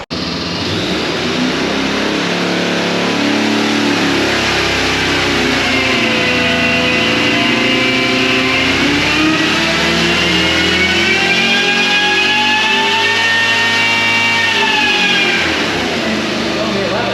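A supercharged 502 big-block engine revs hard and steadily on a dyno for a long pull, the pitch climbing, dipping and climbing again, loud and close throughout.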